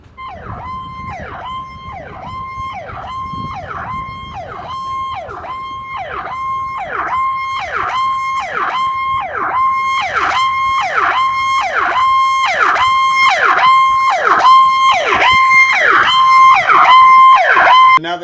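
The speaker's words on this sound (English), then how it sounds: "the GE-6 is the best way to get the Powercall emergency siren tone if you're just looking for a single tone." A Powercall GE-6 100-watt emergency siren gives out its single-tone wail, rising and falling in steady regular sweeps, loud and close, and swelling a little louder over roughly eighteen seconds with no voices.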